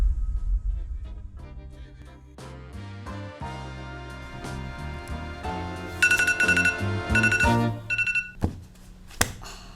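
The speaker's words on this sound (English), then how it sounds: "Well, I guess the 1 hour timer is up." A one-hour timer alarm goes off, playing a melodic electronic ringtone with shifting tones, bright chiming notes and a few sharp clicks, heard clearly with no talking.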